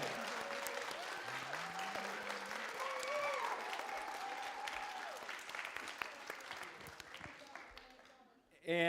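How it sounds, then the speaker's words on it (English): Audience applause and cheering for animation professors at a school animation screening event, sustained clapping across the room with whoops and voices mixed in, ending abruptly in a loud burst. "Please stand up if you are an animation professor and give them a round of applause,"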